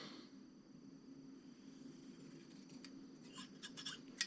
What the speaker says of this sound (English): Let's try these big old scissors on this